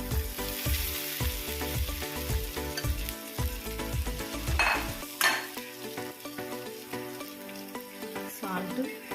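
Poha tipped into a frying pan of golden onions and turmeric and stirred, giving close sizzling with scraping and clinks from the pan and utensil over background music that cuts out partway through.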